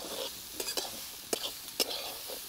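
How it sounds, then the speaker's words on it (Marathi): Wild fig vegetable stirred and sautéed in masala, a faint soft sizzle under a few quick spoon scrapes and light taps against the pan, close and quiet. "आता हे मसाल्यामध्ये चांगले परतून घ्यायचे इथं."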